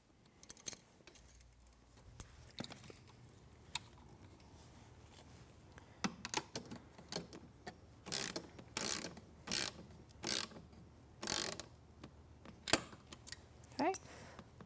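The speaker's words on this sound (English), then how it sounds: "I can go back and tighten the bolt we just installed so that this bracket will not move" A bolt fixing a bracket to a wooden post is tightened with a ratcheting tool, which gives repeated short bursts of metallic clicking close by. Quiet handling noises fill the pauses between bursts.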